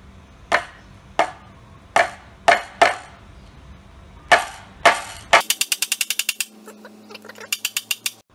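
Several sharp metallic hammer strikes on a nail, spaced irregularly, then a quick burst of rapid lighter taps, close and loud with no talking.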